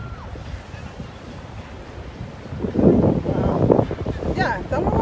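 Sea waves wash ashore at a beach resort in Punta Cana, a broad rushing surge that swells midway under gusty wind buffeting the microphone.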